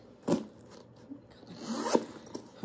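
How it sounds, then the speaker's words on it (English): A zipper on the back pocket of a Michael Kors tote bag is pulled in a few short, close, scratchy runs with small pauses between them, with no voices. "You got a zipper pocket in the back"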